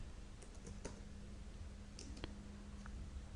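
Keys on a computer keyboard are struck while entering commands in Command Prompt, giving a few sparse, crisp clicks spread over a quiet background hum, close by and with no talk.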